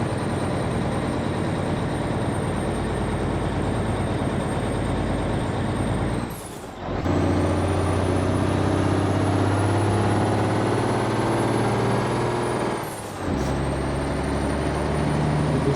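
Truck in American Truck Simulator pulling uphill: a loud, steady low engine drone at high load, broken by two brief drops during gear shifts, then resuming with a strong rumble and a faint high whine.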